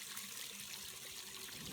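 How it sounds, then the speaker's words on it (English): Water flows steadily over a gold sluice mat on the Arkansas River in Oklahoma, a soft continuous trickling and burbling that stays even and low throughout. "More of an even water flow."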